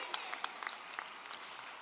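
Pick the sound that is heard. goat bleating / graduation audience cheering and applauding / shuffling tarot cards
graduation audience cheering and applauding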